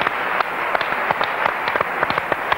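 An audience claps in sustained applause at a live stage show, with sharp irregular claps and a few louder peaks throughout.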